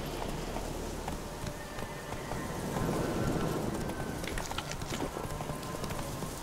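A horse gallops in The Witcher 3, its hooves thudding in a rapid, steady rhythm on the ground, close and continuous under ambient wind.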